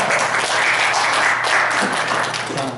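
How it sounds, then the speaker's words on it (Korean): Forum attendees keep up a steady, dense applause for nearly three seconds, the many-handed clatter fairly close and loud with no talk over it. "그리고 박수도 치고 그러시는데"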